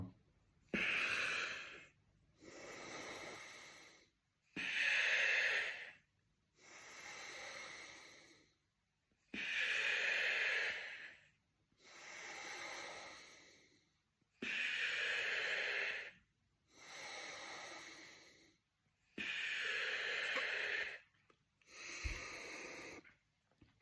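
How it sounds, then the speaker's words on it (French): Six heavy, forceful breaths drawn through an inspiratory muscle trainer, each rasping inhale followed by a softer exhale, evenly paced and close with pauses between. "Et ensuite, là, j'ai fait 6 respirations."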